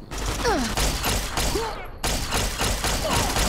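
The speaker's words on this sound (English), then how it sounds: "How many laser pistol hits do you need?" Laser pistol fire in Fallout: New Vegas, with dense, loud bursts of game gunfire and crackling energy shots over a busy background, continuous through the stretch.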